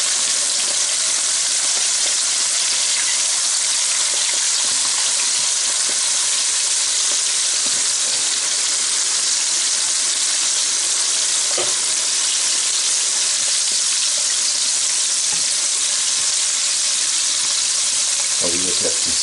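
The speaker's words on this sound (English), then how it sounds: "Or we just let these fry." Chicken drumsticks fry in a pan of hot oil, giving a steady, loud, close sizzle with occasional pops that runs unbroken throughout.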